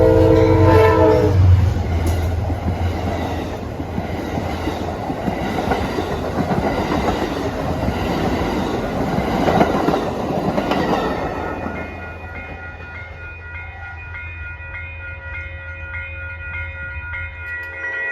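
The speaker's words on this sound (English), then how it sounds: "Here comes Amtrak 48, the Lakeshore Limited from Chicago to New York." Amtrak train 48, the Lake Shore Limited, rumbles past close by along the Hudson with rattling wheels and a loud horn blast near the start, then the noise fades to a quieter hum.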